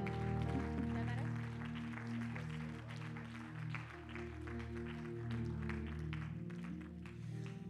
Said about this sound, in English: Clap your hands, make a joyful noise to him.